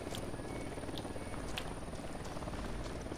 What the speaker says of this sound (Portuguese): Helicóptero a caminho.